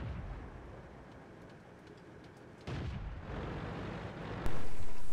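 A tank gun fires in World of Tanks on the Karelia map, with deep booming reports that jump up sharply in loudness, the last blast close and heavy, over a low rumbling backdrop.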